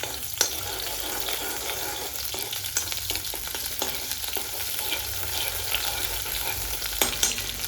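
Ginger garlic paste sizzles and crackles in hot oil in a pan. A dense, continuous frying hiss carries throughout, with occasional sharper pops and stirring scrapes.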